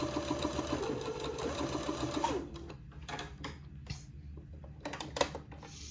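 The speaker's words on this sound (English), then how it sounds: "I can press it to one side and then come back and do the second pass of my French seam" Sewing machine running a steady stitching pass along the second line of a French seam on a funeral pall, humming continuously for about two seconds before stopping, followed by quieter handling noises.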